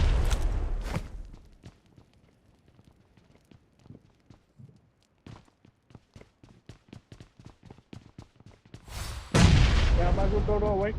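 Bomb, grenade and molotov blasts in an Android mobile battle-royale shooter game: a loud burst near the start, rapid gunfire-like cracks through the middle, and a heavy close explosion near the end.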